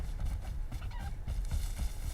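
Fowl calls from a chicken in a video game, a few low throaty clucks and honk-like bursts repeating close by over a steady background.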